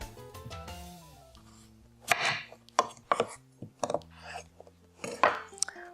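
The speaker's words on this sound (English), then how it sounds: "Then I put them flat side down and I cut them into 4 wedges" A knife cuts halved red potatoes into wedges on a cutting board: a run of sharp, close chops and thuds with short pauses between, over a faint steady background hum.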